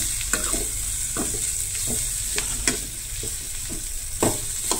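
Clam masala curry stirred in a frying pan: a spoon scrapes and knocks against the pan in irregular strokes over a steady sizzle, close and alone.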